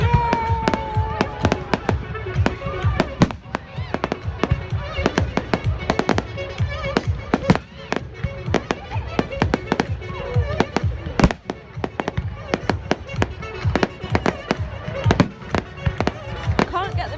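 Bonfire night fireworks display outdoors: a dense, rapid barrage of sharp bangs and crackling pops goes on continuously, with people talking among the crowd.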